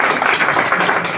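Audience clapping during a Bhagavad Gita lecture, a short, steady patter of many hands at moderate loudness with no speech over it.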